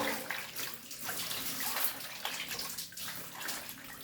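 Tap water runs while pig intestines are washed, a steady splashing gush with uneven surges close by, and no speech.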